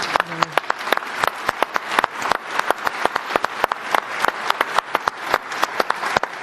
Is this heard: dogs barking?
no